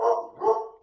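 A dog barks twice in quick succession during an online webinar, fairly close and moderately loud, with no talk over it.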